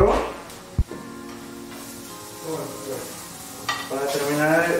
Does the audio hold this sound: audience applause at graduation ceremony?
no